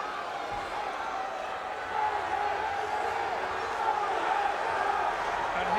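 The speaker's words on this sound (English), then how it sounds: "They're cheering on the hometown favorite" Large wrestling crowd at the Boston Garden roaring and cheering for a hometown favorite, a steady dense wash of arena noise that swells slightly partway through, under commentators talking.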